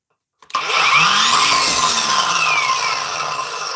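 A 40V cordless angle grinder switches on abruptly and spins up to a loud, steady high-pitched whine with a slight wavering pitch, running continuously and close with no talking.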